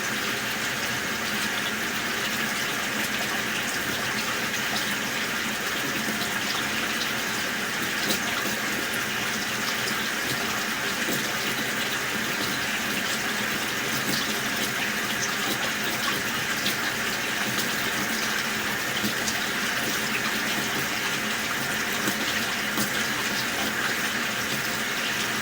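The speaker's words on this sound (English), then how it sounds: "Water" Water runs steadily inside a house, a constant loud rushing hiss that holds unchanged for about 25 seconds with no speech.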